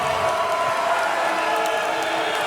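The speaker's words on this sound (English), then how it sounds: "Crowd coming back to life" Crowd cheering at a Legends Football League championship game between Seattle Mist and Chicago Bliss, a steady, loud wash of roaring spectators with no break.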